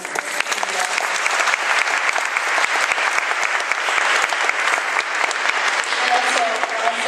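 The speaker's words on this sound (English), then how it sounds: "I would love you to give a round of applause, please" Enthusiastic audience applause at a live concert, loud, dense clapping sustained for several seconds without letting up, with faint crowd voices underneath.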